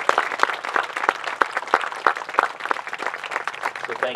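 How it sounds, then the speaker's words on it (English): Audience applause for a school jazz ensemble at a school district groundbreaking ceremony, dense and sustained clapping from a nearby crowd with sharp individual claps standing out, no talking. "Let's give a round of applause to our jazz ensemble led by Miss Kate Hart."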